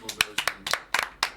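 Applause from a small audience on a French-language TV show: sharp, close hand claps in uneven bursts, five quick clusters in just over a second, fairly quiet overall.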